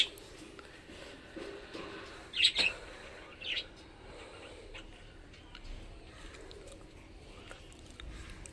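Pet birds give a few short, sharp chirps in a quiet room, one pair close together and another a moment later, over faint background noise.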